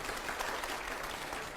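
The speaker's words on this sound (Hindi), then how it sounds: "अगले सवाल की तालियां जोरदार तरीके से" An audience claps loudly in a dense, steady burst of applause that runs the whole short moment without a break.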